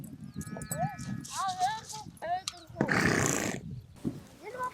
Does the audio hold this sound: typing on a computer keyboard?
no